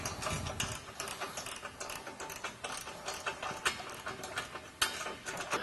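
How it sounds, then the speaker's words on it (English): Bolts on a Jeep JK winch mounting plate being tightened with a 3/4 inch wrench or socket, giving a run of quick ratcheting clicks in irregular bursts, close and fairly loud, with no talking. "Go ahead and tighten these with a 3/4 inch in wrench or socket."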